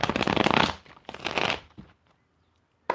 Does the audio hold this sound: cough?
no